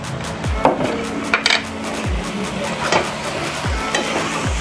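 Black taro is fried in a pan with black pepper powder; a spatula knocks and scrapes against the metal in regular, fairly loud strokes over a constant sizzle.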